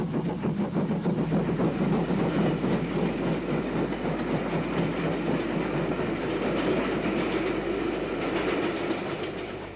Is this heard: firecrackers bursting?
no